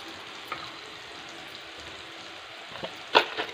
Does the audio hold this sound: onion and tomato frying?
yes